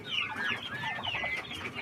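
Chickens clucking and chattering close by, a continuous busy stream of short calls with no voices.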